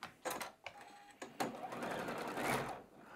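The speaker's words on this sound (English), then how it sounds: "And then I'm going to sew a line." A domestic sewing machine stitches a straight seam joining dark cotton quilting fabric pieces for a pinwheel block, running in short bursts that start, pause, then settle into a steady close whir.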